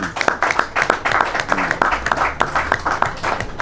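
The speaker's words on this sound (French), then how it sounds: "Est-ce que nous pouvons nous applaudir?" An audience at a Congolese public address applauds, a fairly small group producing distinct, irregular claps that run in quick succession throughout, close and moderately loud.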